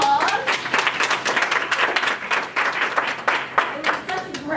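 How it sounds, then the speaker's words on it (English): An audience claps and applauds at the close of a relationship-management talk, a steady dense patter of hands lasting several seconds with a voice speaking over parts of it. "Give yourselves a round of applause."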